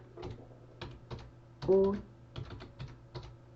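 Someone types a command on a computer keyboard for a Raspberry Pi, sounding a quick run of distinct keystrokes close by as someone talks over them.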